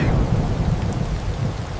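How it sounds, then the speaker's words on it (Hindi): A thunderstorm rolls on with low continuous thunder rumbling beneath steady rain falling on surfaces, loud and close, with no voices. "यह टॉम और जेरी की जिंदगी का सबसे बड़ा तूफान था।"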